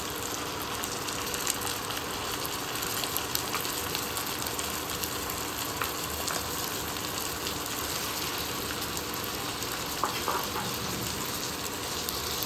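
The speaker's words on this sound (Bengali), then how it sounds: "এবার আমি এখন মটন কিমাটা দিয়ে দিচ্ছি।" Mutton mince sizzling in a pan with onions that have been fried until reddish, a steady, even hiss of frying with faint crackles that carries on throughout and no voice over it.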